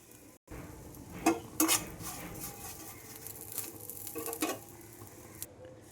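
Shrimp with turmeric powder being stirred and mixed in a hot pan, with scraping spatula strokes and soft clinks of metal over a low sizzle, fairly close and without speech.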